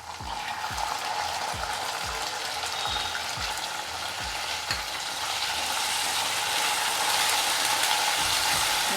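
Potatoes and peas fry in oil with a dense, steady sizzle, while a spoon scrapes and knocks the pan in a quick, regular rhythm, close and without any voices.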